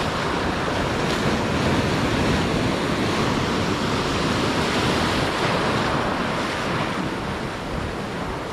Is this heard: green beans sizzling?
no